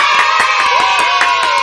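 Applause in a podcast studio, a brief burst of steady clapping from a small group, close and fairly loud, over a constant tonal hum.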